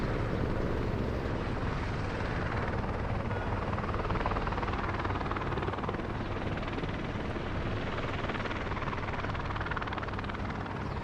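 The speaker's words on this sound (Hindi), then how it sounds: "देहरादून से श्रद्धालुओं को लेकर हेलीकॉप्टर भी आना शुरू हो गए हैं" A helicopter carrying pilgrims from Dehradun near Badrinath in the Himalayas, its rotor and engine a loud steady drone throughout, close overhead with no talk.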